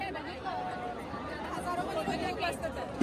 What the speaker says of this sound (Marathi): सभेला बघ केवढी गर्दी